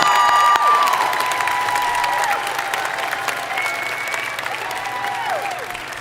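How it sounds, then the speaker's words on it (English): Applause rolls through a high school graduation ceremony crowd, brisk and full at first and then easing slightly while cheers and whoops rise above the clapping. "Let's give another round of applause"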